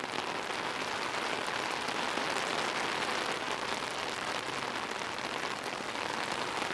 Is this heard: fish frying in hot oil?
no